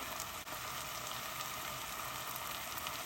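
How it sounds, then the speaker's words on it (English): Ground beef and onion fry in a pot for Persian loobia polo, a continuous even sizzle with a faint crackle, close and steady with no talk over it. "Then I'm gonna mix the beef with the onion and let it cook"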